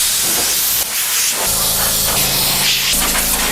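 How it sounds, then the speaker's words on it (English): Compressed air sprays over a C7 Corvette Grand Sport during paint prep before polishing: a loud, steady broadband hiss that holds for the whole stretch, with a slight shift in tone partway through as the nozzle moves. "So I'm going to use some compressed air and spray the entire car down before we start polishing."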